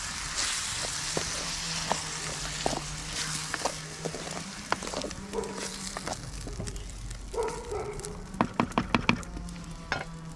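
Tomatoes sizzle and fry in a hot pan for homemade İzmir köfte, with a steady broadband hiss throughout and scattered clicks and taps of a utensil stirring, strongest near the end.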